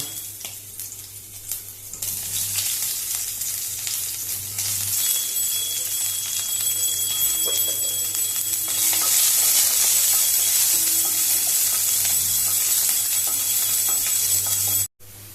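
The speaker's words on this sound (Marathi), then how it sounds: "आणि आता भितर मिरच्यो घालता।" Green chillies sizzle and crackle in hot ghee in a pan for Goan-style jaggery poha, a steady close frying hiss that grows louder and fuller midway, with faint stirring clinks.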